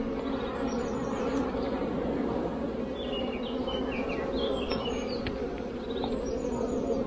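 Dense, steady buzzing of many honeybees swarming around an open beehive, a continuous close drone filling the whole stretch, with faint bird chirps in the background.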